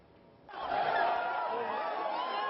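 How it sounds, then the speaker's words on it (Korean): Crowd of some 3,000 people shouting and screaming on a winter beach at the Haeundae polar bear swim festival in Busan, a loud, dense burst of voices that swells suddenly and keeps roaring steadily. "함성인지 비명인지 여기저기서 터져나오는 목소리"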